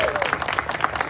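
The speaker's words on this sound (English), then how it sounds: "Give him a round of applause." Brief burst of audience applause at a community kickoff event for a tax services program, dense and steady, with a faint voice briefly audible over the clapping.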